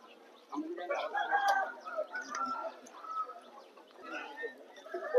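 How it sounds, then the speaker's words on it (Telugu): Fowl at a busy poultry market in Vijayawada where healthy fighting roosters are sold, with clucking and cooing calls mixed into crowd chatter and people talking throughout. "చాలా హెల్తీగా ఉన్నటువంటి కోడిపుంజు ఇది కూడా చాలా బాగుంది"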